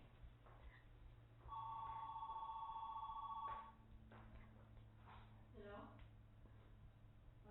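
An indoor telephone rings with a steady electronic warble lasting about two seconds, fairly clear in a quiet room during a sit-down conversation, with faint voices and rustling around it.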